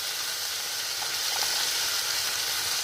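Turmeric dropped into hot oil for a tempering while making a papad curry, giving a steady, even sizzle and hiss throughout with no voices.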